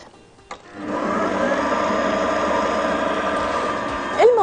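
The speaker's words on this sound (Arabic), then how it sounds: "كل المكونات الجافة في العجان، ويلا بينا نخلطها مع بعض كويس قوي" A dough mixer kneading dry bread ingredients, with salt added, for quick faish: a steady whirring motor drone starts after a brief knock and runs evenly for several seconds, with a short rising whine near the end.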